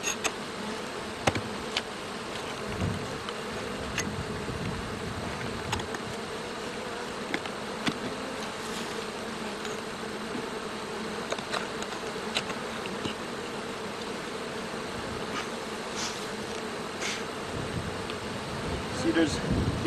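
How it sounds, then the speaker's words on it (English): A dense, continuous hum of many honeybees buzzing close by at an open hive, with occasional sharp ticks and individual insects passing near. "here we have more bees than the other one"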